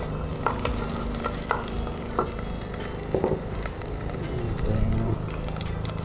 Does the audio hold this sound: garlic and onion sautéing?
yes